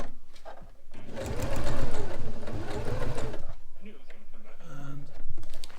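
A sewing machine runs in steady loud bursts while stitching a tent footprint for a Fjallraven Abisko 1 tent, its motor whirring close up, pausing briefly and restarting, with a few soft handling noises between runs.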